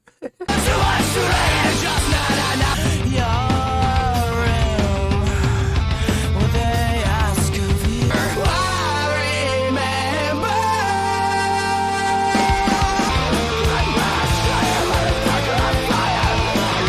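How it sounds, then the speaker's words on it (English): Screaming vocals in a song, loud and continuous inside a dense, full-band rock mix that shifts sections midway. "There's those screams you guys are telling me about."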